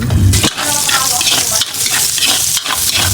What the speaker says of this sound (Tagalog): Sa parehong kawali at mantika, naglagay ako ng sibuyas at bawang